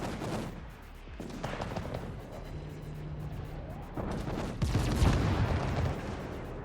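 World of Warships naval battle gunfire, heavy main-battery salvos booming in bursts with a rumbling low end, a loud volley near the end over continuous battle noise.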